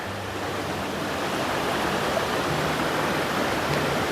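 A big, wide creek rushes past at a trail crossing. Its steady broadband roar of flowing water stays close and constant, with no talk over it.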